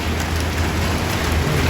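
A dense, steady hiss of heavy rain pours down without pause, loud and continuous.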